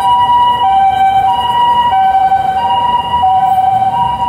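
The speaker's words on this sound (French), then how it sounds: "on dirait une ambulance des années 80" An ambulance siren wails steadily on a Tokyo street, its two-tone wavering pitch loud and close, with road traffic rumbling underneath and no one talking.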